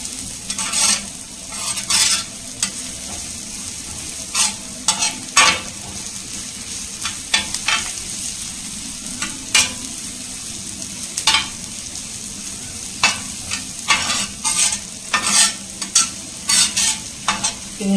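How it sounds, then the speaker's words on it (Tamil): Onions sautéed spread across a hot tawa for dosa, sizzling steadily while a spatula scrapes and stirs in frequent, uneven bursts close by, with no voices. "நம்ம இந்த தவா ஃபுல்லாகவே ஸ்ப்ரெட் பண்ணி தான் வந்து வதக்கணும்"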